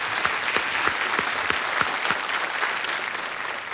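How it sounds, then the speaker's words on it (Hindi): Studio audience applause greets a contestant on the quiz show Kaun Banega Crorepati, a steady dense clapping that carries on at an even level throughout with no talk over it. "तालियों के साथ इनका स्वागत किया जाए।"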